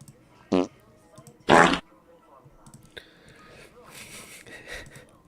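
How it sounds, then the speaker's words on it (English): Fart sound effect played on a live pro wrestling talk show: two loud, buzzy bursts, the second longer, followed by quieter background noise and a sharp click. "You want to give it a fart noise?"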